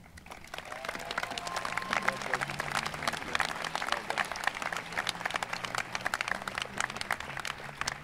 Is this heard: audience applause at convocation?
yes